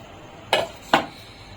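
Two sharp metallic clinks ring out, about half a second apart, as grape barfi mixture goes into a pan over an otherwise quiet background.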